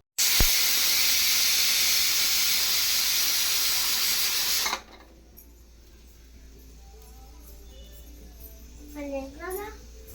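A pressure cooker whistle blasts loudly for several seconds as steam vents from a pot of chana dal, then cuts off, leaving quiet kitchen background with a voice briefly near the end.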